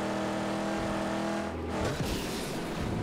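A car in the post-apocalyptic driving game Mad Max roars along, its engine rising loudly and steadily as it accelerates, with a brief shift around the middle before it surges on.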